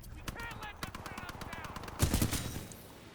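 Flatline assault rifle fire in Titanfall 2, a rapid stream of automatic shots crackling through the clip, with a heavier, louder burst near the end, mixed with faint game sounds and some voice.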